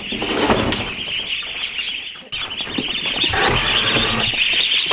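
Ducklings in transport crates give a busy chorus of high, close peeping chirps that continue almost without a break, with rustling and shuffling underneath and a brief dip midway.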